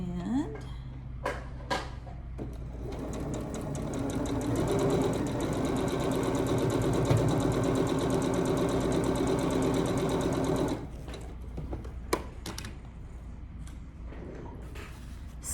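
A sewing machine stitches quilt fabric for a Vintage Rose block in a steady, close, fast whir lasting about nine seconds, then stops, followed by light handling clicks and thread trimming sounds.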